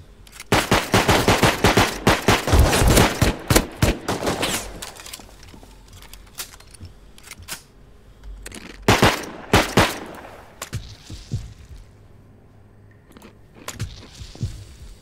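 Bursts of rapid automatic gunfire crackle loudly in clusters, with single shots and pauses between volleys, in a video game firefight.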